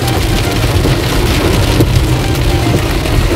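Heavy rain pours steadily and loudly, a dense hiss of drops on surfaces with a low rumble beneath, no voices.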